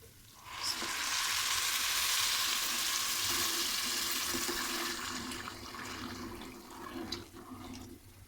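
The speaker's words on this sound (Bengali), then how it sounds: "দিয়ে দিচ্ছি ফুটানো গরম পানি।" Boiling hot water is poured onto frying rice in a pan, setting off a loud, sustained rush of hissing steam that slowly dies down into a softer bubbling sizzle.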